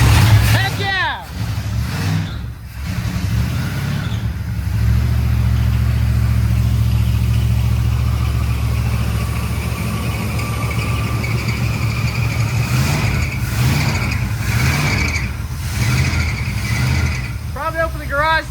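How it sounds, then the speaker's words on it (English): An old Dodge pickup engine runs steadily in a garage, a low continuous rumble that holds through most of the stretch while people talk and cheer over it. "We have a running pickup"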